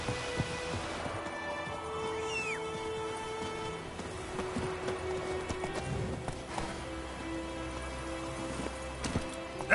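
Roach the horse's hooves clip-clop in a steady galloping rhythm in The Witcher 3, close and continuous over a game ambience.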